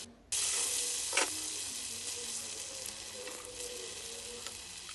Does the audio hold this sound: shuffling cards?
no